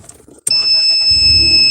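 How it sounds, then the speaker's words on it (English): A car engine cranks and catches with a sudden loud onset, then settles into a steady running hum with a high whine, close by and without talk. "I'm going to try to start my car."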